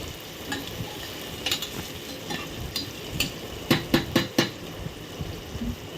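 Softened tomatoes are sautéed in a pan for a mutton dish, with a faint sizzle under a run of sharp spoon clacks and scrapes against the pan, several in quick succession near the end.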